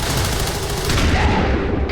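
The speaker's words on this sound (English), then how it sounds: "Return fire with a heavy cannon." Heavy cannon gunfire in a video game firefight, a dense burst of loud, rapid booming shots running continuously and close up.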